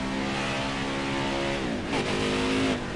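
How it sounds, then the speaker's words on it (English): A truck engine revs steadily in a PS4 racing game, its harmonic drone dipping and rising as the throttle is blipped for burnouts, loud and continuous with no voices. "They are just wanting my truck to do burnouts here."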